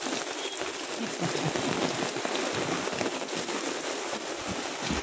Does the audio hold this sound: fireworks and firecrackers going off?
no